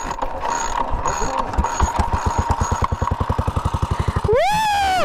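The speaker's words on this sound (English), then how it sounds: "I started on my first 1933 motorcycle." A 1933 Moto Guzzi motorcycle cranks over in a fast, even series of mechanical chuffs, then fires and catches into a loud running engine, with a rising whistle-like tone as it starts.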